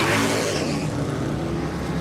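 Race car at the 2011 Grand-Am Grand Prix of Miami pulling out of its pit stop after fuel and tires, the engine revving hard and loud in one sustained surge as it accelerates away.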